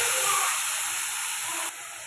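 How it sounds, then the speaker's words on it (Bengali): Spice paste hits onions already fried reddish-brown in a pan for a thin chicken curry, giving a loud, steady sizzling hiss that eases slightly near the end, with no talking. "এই মশলাটা দিয়ে দেবো।"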